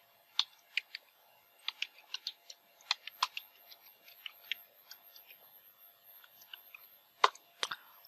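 Computer keyboard keys being typed in a quiet room, a crisp, irregular run of clicks and taps at close range, ending with a couple of louder keystrokes.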